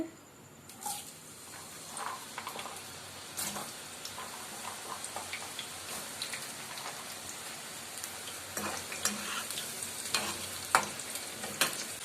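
Sweet potato fries sizzling in hot oil, a steady bubbling crackle with scattered sharper pops over about twelve seconds, close and fairly quiet, with no talking.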